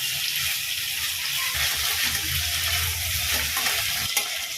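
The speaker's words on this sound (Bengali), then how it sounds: "নুন আর হলুদ মাখা চিংড়ি মাছটা ভেজে নেব।" Prawns coated in salt and turmeric fry over lowered heat, a dense, close hiss of sizzling oil that holds steady throughout, with a faint scrape near the end.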